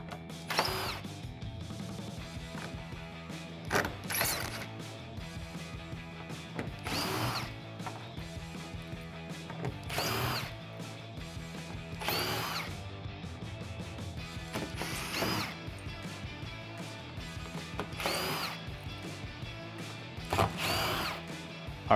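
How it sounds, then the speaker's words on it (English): An impact gun backs Torx screws out of the inner tailgate cover on a 2015-2020 Ford F-150, firing in short, repeated bursts a few seconds apart over a steady low hum. "grab your impact gun or your ratchet and get those off"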